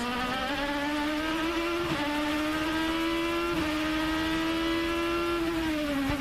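An IndyCar race car screams along the Long Beach street circuit in a steady, loud onboard engine note, with two brief dips as the driver brakes and shifts, then climbs again. No talk is heard.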